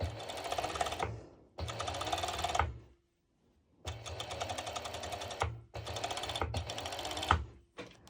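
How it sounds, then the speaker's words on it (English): A serger overlocking fabric for a one-shoulder top runs in four sustained bursts of dense, rapid mechanical stitching, close and loud, separated by short pauses with no talk. "I'm going to serge it"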